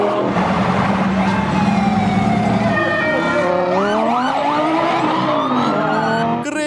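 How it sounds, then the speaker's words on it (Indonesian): A toy police race car blares a loud electronic siren that wails continuously, its pitch sweeping up and down in a rising, looping pattern, close and unbroken for the whole stretch before cutting off at the end. "Wow, ini mobil polisi balap."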